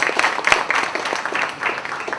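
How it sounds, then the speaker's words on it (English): Audience applause at a book launch, a dense burst of clapping from a crowd that holds steady for a couple of seconds with no voices over it. "Let's give her a round of applause."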